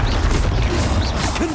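A Confringo spell blast in the video game Hogwarts Legacy comes as a loud, dense burst of crashing, rumbling impact noise that fills the whole short moment.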